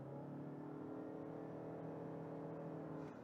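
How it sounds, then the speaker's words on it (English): Engine of a 2019 Toyota RAV4 Hybrid held at high, near-constant revs under full throttle, a steady droning whine with layered harmonic tones that stays loud and even for about three seconds, with no talking. "when you press the throttle, the engine RPM goes to almost till your maximum RPM, and that is why it becomes a little shouty"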